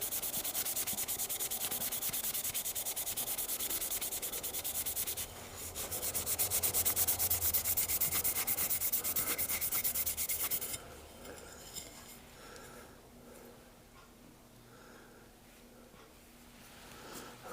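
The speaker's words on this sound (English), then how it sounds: "I'm going to clean it up with a scouring pad here just to get some of the dullness off of it." A scouring pad rubs hard against bare steel in close, steady abrasive strokes that grow louder for a stretch midway, then ease into lighter, softer scrubbing.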